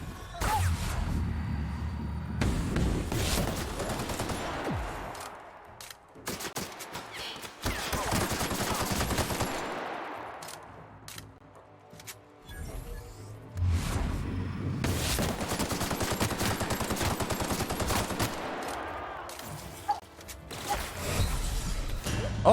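Gunfire in the video game The Outer Worlds comes in several rapid bursts of shots separated by short lulls, loud and close, with no talk over it.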